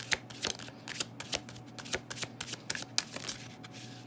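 Tarot cards are shuffled and slid by hand in a quick series of crisp riffles and flicks. The close, dry rustling bursts repeat irregularly over a low background hum.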